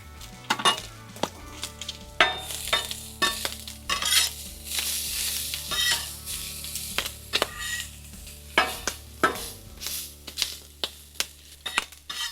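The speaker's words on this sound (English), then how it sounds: "And I'm just going for, like fried onions." Onions for a crack burger frying in a pan, with a steady sizzle under frequent spatula stirs and clinks of utensil on metal, close and fairly loud throughout.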